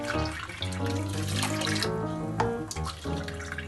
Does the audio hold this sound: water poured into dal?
yes